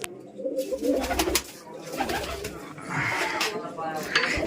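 Soft, throaty fantail pigeon coos repeat close by amid rustling and light clatter, with a person talking intermittently over them.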